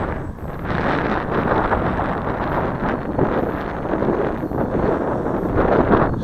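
Strong gusting wind buffets the microphone while an RC GeeBee plane flies outdoors, a continuous loud, rumbling roar with no clear motor tone.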